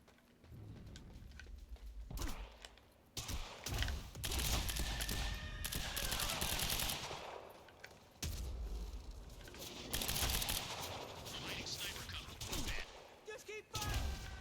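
Sustained gunfire from the Quantum Break video game, bursts of shots that come and go in waves across a busy action mix, with voices heard among the shooting.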